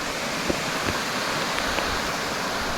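A forest stream in Moolapadu near Vijayawada, its water rushing in a steady, dense wash that fills the whole stretch without pause.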